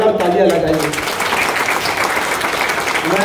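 Audience applause at a book launch event, steady dense clapping throughout with a voice speaking over the start.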